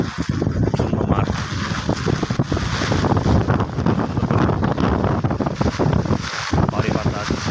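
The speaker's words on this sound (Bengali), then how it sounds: "বাতাসের সাথে ঝিরিঝিরি বৃষ্টি" Strong wind with light drizzle over muddy rural roads and empty fields, heard as a loud, continuous rushing roar buffeting the microphone throughout.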